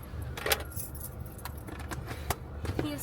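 House keys jangle as they are handed over, a few bright metallic clinks and rattles over a low car engine rumble.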